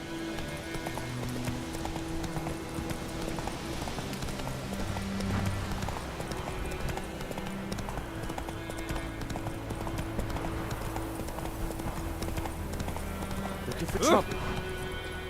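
Roach the horse galloping in The Witcher game, rapid rhythmic hoofbeats running steadily throughout with music underneath and a short voice line, ending with a whinny-like cry.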